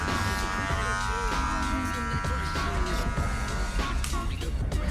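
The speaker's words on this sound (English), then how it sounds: "The tool that I'm specifically using right now is a cordless magic clip." A cordless Wahl Magic Clip hair clipper with a stagger-tooth blade buzzes steadily while cutting hair for a bald fade in a barbershop, close and continuous, with faint talk and background chatter underneath.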